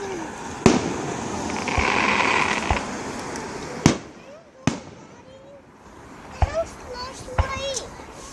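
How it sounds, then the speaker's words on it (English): Fireworks at a Forty Fort display, sharp loud bangs scattered through the clip over crowd noise, with children and adults talking nearby and a voice rising in between. "It's just fireworks. It's not that loud."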